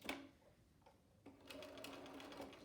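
A sewing machine stitches elastic into a seam, with a short opening whir, a pause with a few clicks, then a steadier run of rhythmic stitching, all quiet and close.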